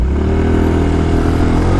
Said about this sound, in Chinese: 好，那我现在吹油门。